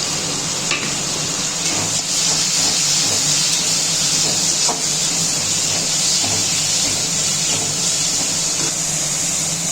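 Ginger garlic mince sizzles in hot oil with a loud, steady hiss that stays close and unbroken throughout, and faint clinks and stirring sounds come through underneath.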